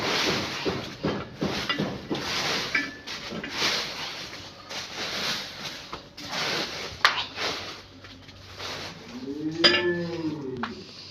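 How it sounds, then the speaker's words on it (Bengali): A dairy cow and her first heifer calf on a farm, with livestock shuffling, wooden knocks and scattered handling noises close by, and a brief bovine call near the end. "এটা আমার গাভীর প্রথম বাচ্চা, প্রথম বকনা বাচ্চাটা"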